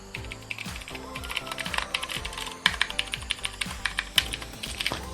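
Rapid typing on an MX Board 3.0S mechanical keyboard with a plastic housing: close, crisp clacks in quick irregular bursts, with a faint ringing resonance from the case under some keys and no voices.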